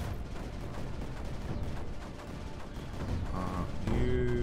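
Mortar fire in the strategy game Creeper World 4 thumps and booms in a steady barrage, low and rumbling, with brighter mechanical tones cutting in near the end; no talking.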